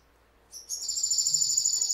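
A bird's mating call: high, thin, sustained calling that begins after a moment of quiet and continues steadily, close and fairly loud.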